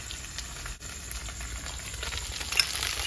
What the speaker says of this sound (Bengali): রসুনটা এবারে ভাজা করে কুচনো করে দিতে হবে